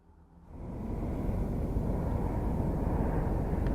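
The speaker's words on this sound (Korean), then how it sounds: "그리고 드론 택시, 조비 에비에이션에서 공개한 드론 택시입니다." A Joby Aviation drone taxi flying: a broad whooshing hum swells over the first second, then holds at a steady, moderate level with no voices.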